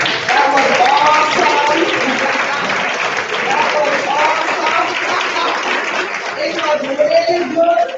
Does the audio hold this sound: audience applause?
yes